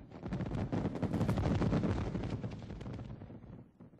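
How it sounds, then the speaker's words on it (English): Fireworks at a festive celebration, rapid rumbling bursts and crackling pops rolling together in a dense volley that swells and fades over several seconds, heard from a moderate distance. "The festivities usually end with a brilliant fireworks show."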